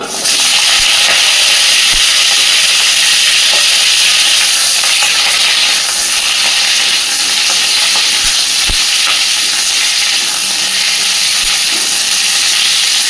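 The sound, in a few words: potato and cauliflower sizzling in hot oil in a wok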